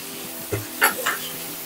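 Spices for a tempering crackle and sizzle in a hot pan while making Maharashtrian brinjal bharit, with a few sharp pops and spoon stirs over a steady frying hiss.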